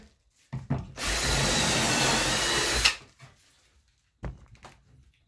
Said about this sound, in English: here's the 2 pocket hole jig holes that I've drilled